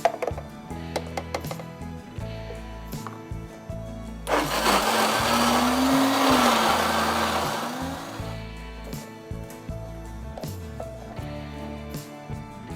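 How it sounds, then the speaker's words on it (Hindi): Chana dal grinds in an electric grinder for chana dal halwa, a loud steady motor whir that runs for several seconds between quieter clinks and clatter of spoon and utensils nearby. "इसको साथ आप पीसते भी रहें और चम्मच से हिलाते भी रहें, ताकि हमारी दाल जो है वो अच्छी तरीके से पिस जाए।"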